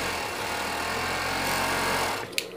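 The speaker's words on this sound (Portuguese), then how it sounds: "E vamos costurar na nossa overlock." An overlock machine runs steadily and loudly while joining the shoulder seams of a Mickey Mouse pet sweatshirt, a dense continuous whir that stops near the end with a brief clack.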